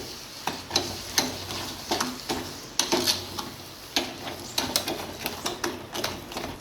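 A sugar mixture for Satyanarayana prasad stirred in a pan, rhythmic scraping strokes of the spoon roughly twice a second over a low sizzle, close and clear with no talking.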